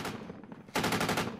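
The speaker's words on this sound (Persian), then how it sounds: "شلیک گلوله ها در هلمند بیشتر شده و شعله نبرد شدیدتر." Gunfire during street fighting in Lashkar Gah, Helmand: a quiet, rumbling stretch breaks into a loud, rapid burst of automatic shots that repeat steadily and close by until the end.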